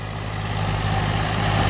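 A Mahindra 265 DI tractor engine drones steadily and loudly while pulling a tiller through a field. The low, heavy running is close and continuous, with no voices over it.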